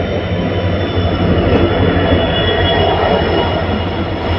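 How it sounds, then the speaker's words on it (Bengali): A train pulls into a station in the Dooars region about 25 minutes late, a loud, steady rumble of wagons and rails running throughout without a break. "ট্রেন আসলো আমাদের।"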